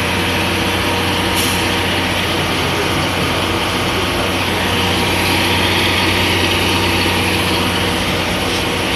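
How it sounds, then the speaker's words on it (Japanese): A diesel locomotive engine on the SL Taiju train at Shimo-Imaichi, Japan, drones loudly and without pause, a high-pitched whine sitting over a deep rumbling throb. "もうエンジンも甲高いですね"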